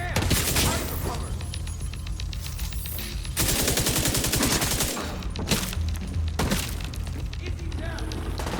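Rapid bursts of automatic gunfire from the video game The Division 2, loud and sustained across the whole stretch with brief gaps, and players shouting over the shooting.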